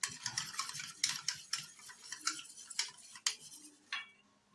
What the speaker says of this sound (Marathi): परत एकदा व्यवस्थित पाणी घातल्यावर मिक्स करून घेऊया